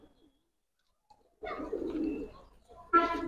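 Giribaj pigeons cooing in a loft, a soft low burst of throaty calls followed by a second, brighter coo after a pause; nearby and moderately quiet.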